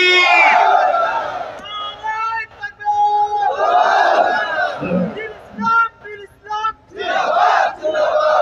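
A large crowd at a Bengali Islamic sermon shouts the takbir response with raised hands, loud chanted cries that come in several waves with short pauses between them.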